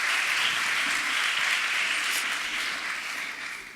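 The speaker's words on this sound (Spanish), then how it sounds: "Unos aplausos." A conference audience gives a guest speaker steady, loud applause that holds evenly for several seconds before easing slightly toward the end.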